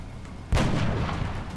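A single heavy shot from a weapon in XCOM: Enemy Within, a sudden loud blast that then rings out in a sustained rumbling tail.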